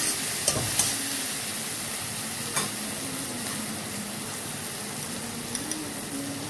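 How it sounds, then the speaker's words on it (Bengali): Chopped tomato and green chili being stirred into softened fried onions in a pan, a steady close sizzle with a few sharp scrapes of the spoon near the start and again later, no voices. "এবার একে একে আমি টমেটো কুচি, কাঁচা লঙ্কা এগুলো দিয়ে ভালো করে নেড়ে চেড়ে নেব।"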